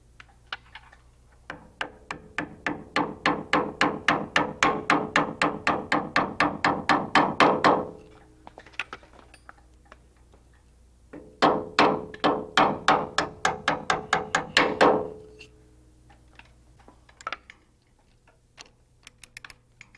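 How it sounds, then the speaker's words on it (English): A greased bolt is driven into a part of a Rotorway EXEC 162F helicopter kit, with two long runs of rapid, evenly spaced metallic taps close to the mic, separated by a short pause and trailing into a few scattered taps. "Place a small amount of grease on the bolt threads and drive the bolt in."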